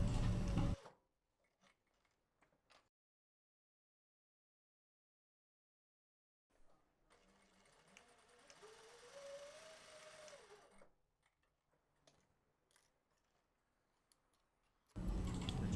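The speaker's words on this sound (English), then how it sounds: "I'll make 2 rows of stitching now." An industrial sewing machine stitches rows of overlaid stitch in one steady, quiet mechanical run of about four seconds, heard alone between louder sounds at the start and end.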